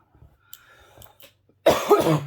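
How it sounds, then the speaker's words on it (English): A single sharp, loud cough bursts out after a stretch of quiet, close to the mic, with faint rustling before it. "Sorry for coughing in your ear."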